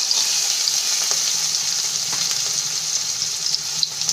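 Chopped hot chili and finely diced onion sizzle steadily in a hot pan, a continuous close frying hiss with faint stirring scrapes and no voices.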